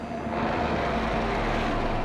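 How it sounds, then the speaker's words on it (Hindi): A helicopter flies away above an abandoned, bombed-out city. Its broad engine and rotor roar is loud and steady throughout, and no voices are heard over it. "और वो गया हमारा हेलीकॉप्टर"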